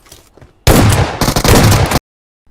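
Loud, close gunfire from an M4 rifle and a shotgun in a battle royale video game: a dense burst of shots, a brief dip, then another heavy burst that cuts off abruptly into silence.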